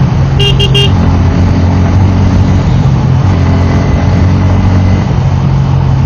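A Pulsar N160 motorcycle riding along a village road, its engine droning steadily up close under heavy wind rush, with a brief double toot of a horn near the start.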